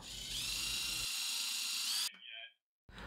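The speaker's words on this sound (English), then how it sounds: "Now I can permanently secure the fence in place with some self-tapping screws." A power driver whines steadily for about two seconds while driving self-tapping screws into a router jig fence, then cuts off abruptly, followed by a brief silence and a faint tail of noise.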